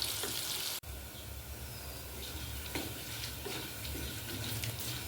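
Pieces of raw mango fry in oil in a pan with a steady, even sizzle and hiss that runs without a break. The frying is close but fairly soft, and there is no talking.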